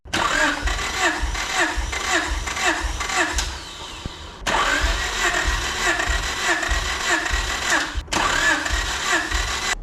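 A Honda Integra B18C2 engine cranks over on the starter during a compression test, a steady rhythmic churning that runs in long bursts with brief pauses between them, close and loud.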